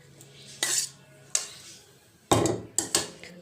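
A knife cuts the stem off a brinjal with a few sharp, close clicks and knocks against a board or plate, spaced irregularly over near silence.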